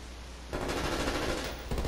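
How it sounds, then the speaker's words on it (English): A nail gun in the Call of Duty Black Ops Cold War video game fires a rapid, rattling burst of shots for over a second, sharp and close, with a brief extra burst at the end and no talk. "It's a nail gun."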